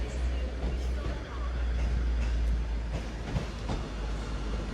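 A British Rail Class 150 diesel unit pulls out of Manchester Piccadilly with a steady low engine drone and faint wheel clatter. A person talks over the train.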